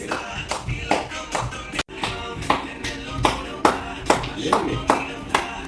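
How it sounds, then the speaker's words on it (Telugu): Hand claps at a children's nursery, a steady run of sharp, fairly close claps about two per second, with voices murmuring underneath. "నేను ఇక్కడ క్లాప్స్ కొడతాను, మీరు ఎవరు క్లాప్స్ కొడతారు?"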